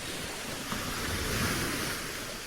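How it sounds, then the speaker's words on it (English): Ocean waves, recorded to surround the listener, wash in a continuous broad hiss of surf with a gentle swell near the middle, steady and moderately loud with no voices. "It sounds like the water is all around you."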